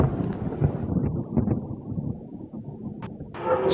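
Heavy monsoon rain falls in Bardoli, Surat, with loud low rolling thunder rumbling throughout. Near the end the sound of the downpour rises as a bright hiss.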